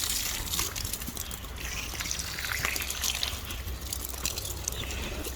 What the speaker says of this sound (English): I am watering by hose instead of connecting up my system the way I usually do